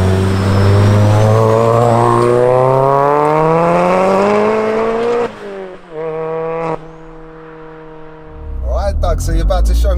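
A 430 bhp stage 4.5 Vauxhall Corsa VXR with a 1.6-litre engine accelerates hard, its engine note climbing through the gears with brief shift breaks, loud and close, heard from inside the car.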